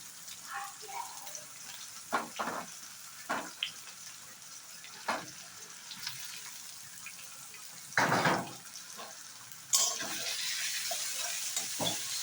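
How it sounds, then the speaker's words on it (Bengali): Dried red chillies fry in oil for a saag dish, giving a quiet sizzle broken by louder scraping and stirring bursts and a brighter spatter near the end, with no talk. "শুকনো লঙ্কাটা এভাবে ভেজে"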